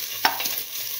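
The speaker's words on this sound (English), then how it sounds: "thoroughly saute and mix." Split mung bean vermicelli is stirred and sautéed in a pan with salt paste, giving a steady close sizzle broken by quick scraping strokes.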